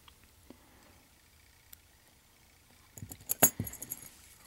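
Metal key sliding into a lock plug with a short burst of clicking, scraping jangle late on, close and fairly quiet after near silence.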